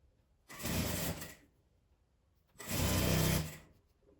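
Two bursts of a sewing machine stitching fabric strips together, each running about a second with a pause between, close and fairly loud with no talking.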